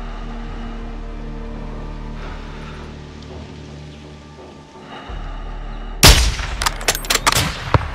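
Sniper rifle shots ring out in Call of Duty: Modern Warfare II, a sharp, loud crack followed by a quick burst of further reports and echoes after a low engine-like hum.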